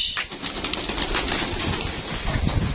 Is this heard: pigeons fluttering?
yes